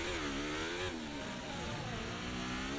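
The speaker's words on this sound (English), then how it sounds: "You can hear the car absolutely struggling there as it's going from 3rd to 5th and switching between the two." Simulated Formula 1 car engine in the F1 2024 racing game at Monaco, droning steadily at high revs with wavering pitch as it hunts between third and fifth gear, close and continuous with no talk.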